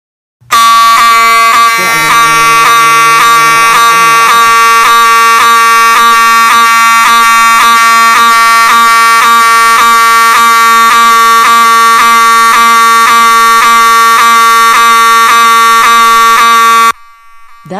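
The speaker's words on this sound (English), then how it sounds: "That TV turned itself into a fire alarm when I tried turning it on to watch Netflix" A cartoon TV that turned itself into a fire alarm when switched on, giving a loud, continuous electronic alarm tone with a steady pulsing beat for about sixteen seconds, with a brief lower rumble early on, then stopping abruptly.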